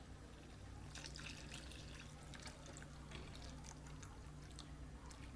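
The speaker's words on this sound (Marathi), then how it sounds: "थोडं पाणी टाकू" Water is poured into a pan of cooking paneer, giving a steady splashing trickle with brighter bursts over a constant low hum, with no voices.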